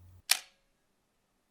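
A Pentax LX film camera shutter fires once, a single sharp, close mechanical click with a brief ringing tail, surrounded by near silence.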